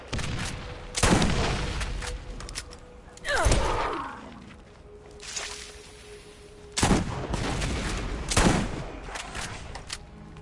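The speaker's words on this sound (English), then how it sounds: "Shotgun." Shotgun blasts in the Borderlands 1 shooter game, a few heavy booming shots spaced seconds apart, loud and close, with combat noise between them.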